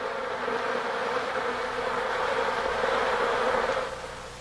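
Honeybees inside the hive fanning their wings to move air and evaporate water, a dense steady buzzing drone held close and even throughout before easing slightly at the end.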